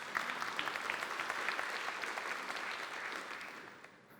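Audience at the opening session of a 2019 annual forum breaks into applause, a dense, even wash of many hands clapping at moderate distance that holds steady and then fades near the end.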